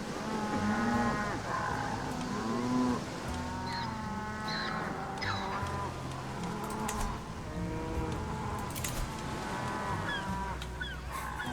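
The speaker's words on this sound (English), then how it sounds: "It's just so much mooing." Many cows moo over and over in the Crusader Kings 3 game, long overlapping lowing calls layered at varying distances, with a few honking bird-like calls and no speech.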